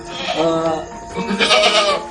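A Peranakan Etawa crossbreed goat at a livestock farm bleats loudly and close, two drawn-out wavering calls in quick succession.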